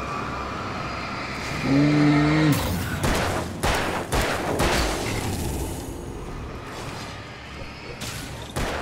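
Gunshots in the video game Alan Wake: several loud, sharp broadband blasts following a rising tonal sound, then scattered booms and crashes fading out.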